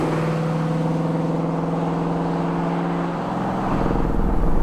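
Ford Coyote V8 swapped into a classic Ford Bronco runs loud and close with a steady throbbing engine note, easing off briefly before the revs climb again near the end.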